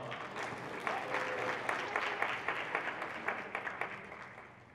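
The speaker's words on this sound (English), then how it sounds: "One more round of applause for the co-chairs as well" Convention audience at a youth association's closing ceremony giving a round of applause for the co-chairs, loud sustained clapping from many hands with distinct individual claps standing out, fading slightly at the end.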